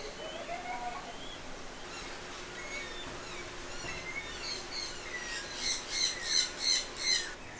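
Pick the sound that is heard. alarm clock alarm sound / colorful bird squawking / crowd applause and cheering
colorful bird squawking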